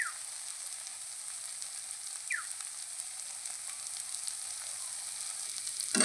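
Spices with chili powder, salt and turmeric powder fry in oil with a soft, continuous sizzle, faint and steady, with a couple of light clinks and no talking.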